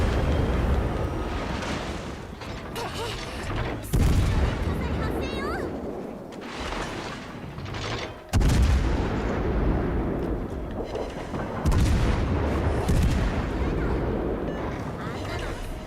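Naval artillery fire from warships in World of Warships: Legends, heavy booming salvos at about 4, 8 and 12 seconds over a continuous rumble of battle noise, with someone talking over it.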